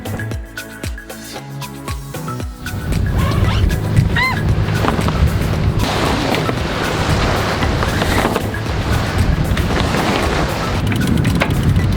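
A sailboat under way on the open Pacific Ocean with sails up, heard as steady rushing water along the hull and gusty wind buffeting the microphone, with creaks and knocks from the rigging early on.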